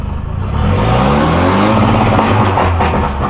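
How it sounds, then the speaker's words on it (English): A big turbo car holds a loud, sustained rev on launch control, the engine droning close by at a steady high pitch for a few seconds. "Oh, is that launch control?"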